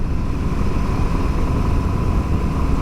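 A Royal Enfield Classic 350 motorcycle engine drones steadily while riding at speed, a loud, continuous low rumble blended with rushing wind noise and no talking.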